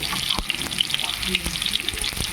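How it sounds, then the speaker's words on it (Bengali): Potatoes fry in a pan with a steady sizzle and scattered crackles and pops, close by, a faint voice now and then underneath. "তার জন্য আলুগুলো ভেজে নিচ্ছি"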